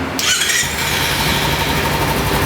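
A Kawasaki Ninja 300 motorcycle is started while the clutch lever is held: a brief high squeal from the starter, then the engine catches and runs with a steady, loud, close rumble to the end.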